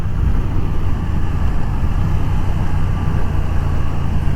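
A Triumph Thruxton RS motorcycle engine drones steadily at moderate revs while riding, a loud, continuous low rumble with rushing wind noise and no clear rise or fall.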